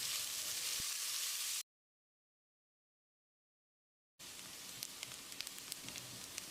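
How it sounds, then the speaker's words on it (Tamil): Finely chopped onions with curry leaves sautéing in a pan for vegetable kurma, giving a steady sizzle and frying hiss that breaks off into silence, then returns with small crackles and pops. "வெங்காயத்தை கண்ணாடி பதத்துக்கு வதக்கிடலாம்."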